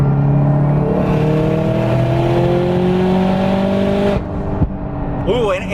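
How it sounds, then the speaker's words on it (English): A built 431 hp Subaru STI roars loudly up close, its aggressive exhaust note rising through the revs, then cuts off abruptly and a voice speaks briefly over an idle. "And boy, the exhaust sounds nasty."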